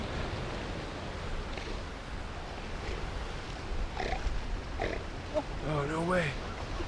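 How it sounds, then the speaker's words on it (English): Seals calling along a rocky coastline beside a beach trail, a few short barking and groaning calls rising over steady surf and wind, moderately close near the end. "You hear the seals?"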